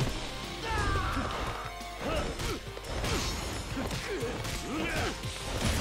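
Crashing impacts as an enemy is smashed into a wall during a brawl in the video game Yakuza 0, with repeated loud thuds and whacks over game music and effects.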